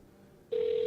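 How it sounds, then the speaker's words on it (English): A telephone ring-back tone on an outgoing call starts abruptly halfway through, a steady, fairly loud electronic tone over faint room noise, with no voices. "watching us listen to a phone ring"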